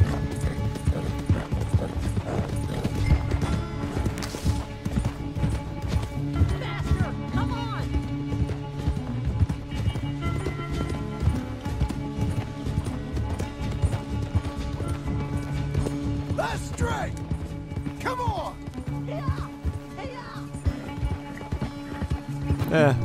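Horses gallop in a Red Dead Redemption 2 race, their hooves clopping in a steady fast rhythm throughout with a brief whinny. Music plays over the hoofbeats and someone talks at times.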